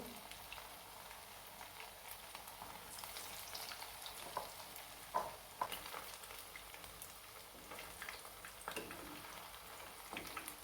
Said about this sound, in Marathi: छान फ्राय करून घेणार आहोत तेलामध्ये